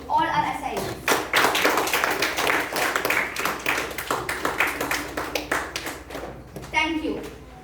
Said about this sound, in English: please let us put our hands together to give a big round of applause to all our assailants